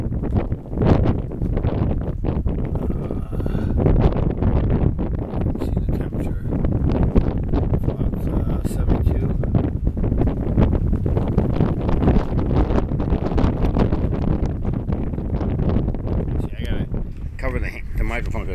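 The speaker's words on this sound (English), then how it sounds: "The microphone because the wind is so much on here." Strong gusting wind buffets the microphone in a constant loud rumbling roar that lasts the whole stretch, with brief rustles and rattles breaking through near the end.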